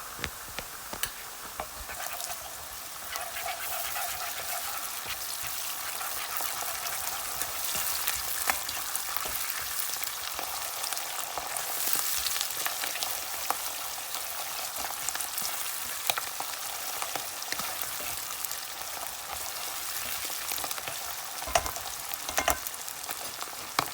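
Onions and mixed tomato paste frying in a pan, a steady soft sizzle with scattered crackles and a few stirring scrapes over nearly half a minute, no voices.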